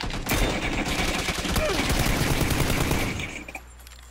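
Sustained automatic gunfire in PUBG on Xbox, rapid continuous bursts close and loud for several seconds, then cutting off and leaving a low hum, with a voice faintly underneath.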